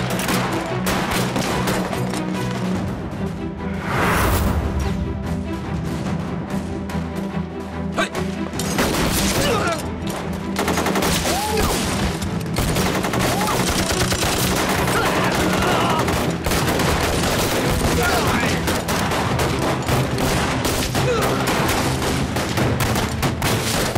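Dense gunfire in a war film battle scene set at a Japanese army camp during the war against Japan, with continuous rapid shots, bursts and booming explosions layered into a loud, chaotic wall of noise, with shouted voices mixed in.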